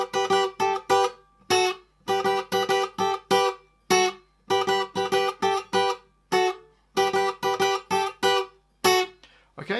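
A guitar plays a simplified version of the synth line from a song, with short, choppy, evenly spaced muted notes in a steady rhythm, close and unaccompanied, with no voice over it.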